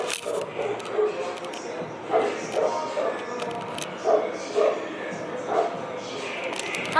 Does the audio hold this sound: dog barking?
yes